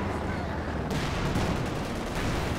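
Tank and anti-tank guns trading fire in a Company of Heroes 2 match, a continuous roar of explosions and gunfire with a sharp heavy blast about a third of the way in, and faint commentary beneath.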